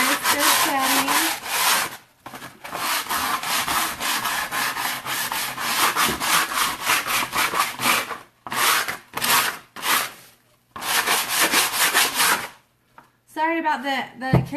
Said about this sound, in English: Give it a nice good sanding.